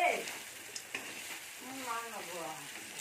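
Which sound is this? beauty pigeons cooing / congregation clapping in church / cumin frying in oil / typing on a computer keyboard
cumin frying in oil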